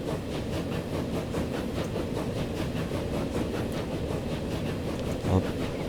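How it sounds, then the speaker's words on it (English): An old train pulls out in the Transport Fever game, a steady rumbling rail roll with faint rhythmic clacking that carries on unbroken from start to finish, with no voices over it. "So watch the old train pulling out."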